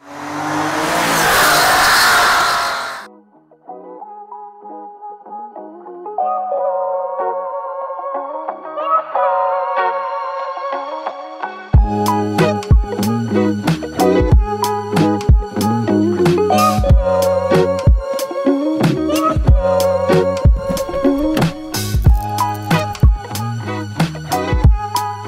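An air-cooled VW Beetle on the road to a winter meeting in Herford, a steady engine drone with a gear change, then music with sharp percussive hits carrying over the running car.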